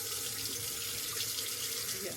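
Hot water streams steadily from a kitchen tap into a sink, a continuous close hiss and splash that runs unbroken for the whole stretch, with no voices over it.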